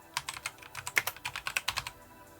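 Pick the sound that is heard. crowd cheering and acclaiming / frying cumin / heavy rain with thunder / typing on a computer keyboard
typing on a computer keyboard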